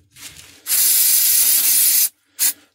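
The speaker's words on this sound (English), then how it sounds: "So I've got my QD electronics cleaner. I'm going to" QD electronics contact cleaner sprays onto a Marx model train turnout in one long hissing burst of about a second and a half, followed by a short puff, close and loud.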